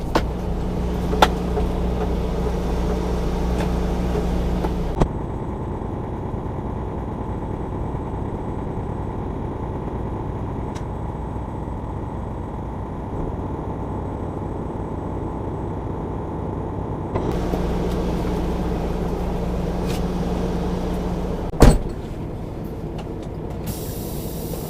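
A semi truck backing under a trailer toward the kingpin at a cold-storage pickup, a steady low diesel engine rumble with a faint hiss and a sharp clunk near the end.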